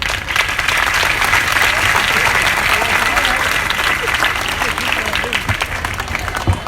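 A crowd applauds after a street play performance, producing a dense, steady burst of clapping that continues loudly throughout, with voices mixed into the noise.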